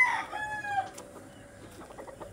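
A rooster crows at the start, a loud drawn-out harmonic call, followed by quieter, softer clucking from chickens nearby.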